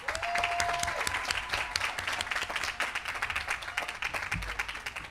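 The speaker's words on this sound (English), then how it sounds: "Let us applaud Joshua." Audience at a high school graduation ceremony clapping for a graduate, a full, even crowd applause of many hands under a brief sustained electronic tone near the start.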